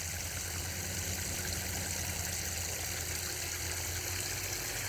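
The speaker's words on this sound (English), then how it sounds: "I gotta fill this bucket with water." Water from a tap gushing into a bucket outdoors on a hot day, a steady broadband rush that holds level without pause.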